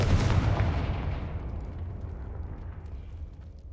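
A Confringo fire spell explodes in the Hogwarts Legacy video game, a single heavy booming burst with a long rumbling tail that slowly fades over a few seconds.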